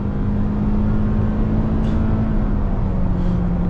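Toyota Corolla Cross with a 2-liter four-cylinder engine pulling under acceleration, a steady droning engine tone with a rising hum, heard from inside the cabin.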